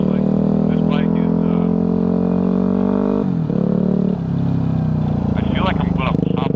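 A 2009 Yamaha WR250F dirt bike engine drones loud and close while being ridden, its pitch holding steady, then dropping and climbing again as the rider shifts, with brief voices over the top.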